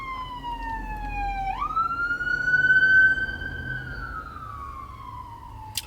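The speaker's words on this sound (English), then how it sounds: "This ambulance is coming up." An ambulance siren sweeps past, a loud steady wail that rises sharply midway and then slowly falls as it draws away, over a low background rumble of traffic.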